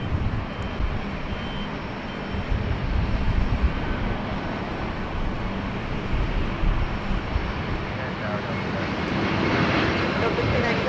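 An American Airlines jet from Atlanta arrives at LAX on the north runway, its engine roar a broad, steady rumble rising gradually louder toward the end, with faint background noise.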